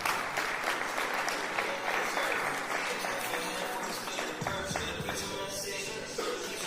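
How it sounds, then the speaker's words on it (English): An audience at a graduation ceremony claps steadily throughout. The applause is a continuous, moderately loud patter with some shuffling and movement mixed in, and faint voices sit underneath. "So you can clap as she comes."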